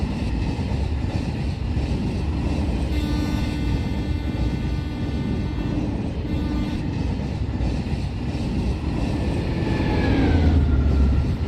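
Indian superfast express train from Chennai Egmore to Kanniyakumari in Train Simulator, running near 110 km/h; a steady, loud rumble of wheels and carriages continues throughout and swells slightly toward the end, with no talk.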